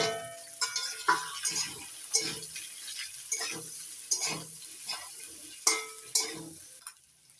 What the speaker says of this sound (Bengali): পেঁয়াজ রসুন আদা লঙ্কা সব ভেজে নিয়েছি এবার দিয়ে দিচ্ছি সেদ্ধ করে নেওয়া সুজির